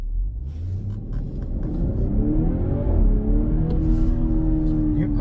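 A 2019 BMW X5 accelerating in sport mode, its engine droning and climbing in pitch, then dipping through a gear shift before rising again, heard steadily from inside the cabin with road rumble underneath.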